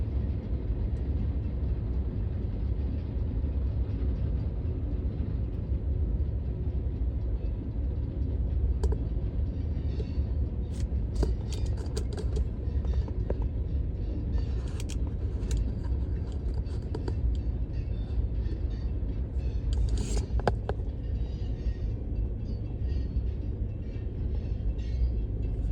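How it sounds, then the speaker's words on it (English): Sugar cane train passing near a road in South Florida, a continuous low rumble of rolling freight cars with scattered clanks and squeals, fairly loud and steady throughout. "That was the sugar train."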